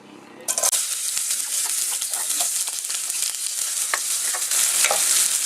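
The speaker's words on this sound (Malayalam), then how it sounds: "നെയ്യ് ചൂടായി കഴിയുമ്പോഴത്തേക്കും നമ്മൾ ആ അരിഞ്ഞു വെച്ചിരിക്കുന്ന സവാള ചേർക്കാം." Sliced onions drop into hot ghee and burst into a loud, close sizzle that crackles steadily, with a few sharp pops and spoon taps against the pan.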